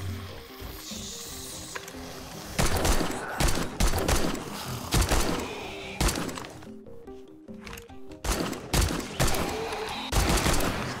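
Gunfire in the survival game 7 Days to Die, a run of loud, uneven shots and bursts over a busy background of game sounds, with a voice talking at times.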